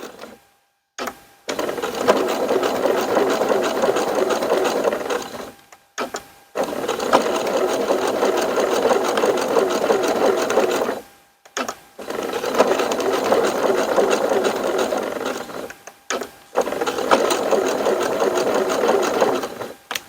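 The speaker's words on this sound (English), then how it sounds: "Then I'm going to Stitch that 3 or 4 times" Sewing machine stitching bridle tow loops onto kite keels, running in four bursts of rapid even stitching separated by short pauses, close and steady with no talk.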